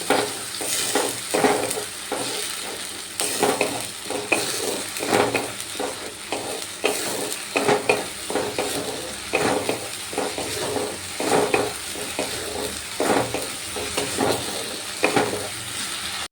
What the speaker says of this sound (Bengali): এবার মশলাটা ভালো করে এই পেঁয়াজ বাটার সাথে মিশিয়ে নিচ্ছি